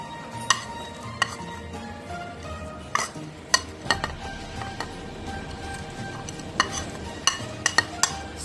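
Plum cake batter with tutti frutti, cashews and almonds being stirred in a bowl, with a thick steady mixing texture broken by sharp, irregular clinks of the spoon against the bowl.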